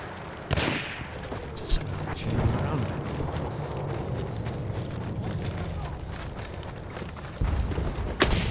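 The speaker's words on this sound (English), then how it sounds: "there's a horse over there." Horse hooves clip-clopping in the Battlefield 1 video game, mixed with distant gunfire and booms, under a busy battlefield din with occasional sharp shots.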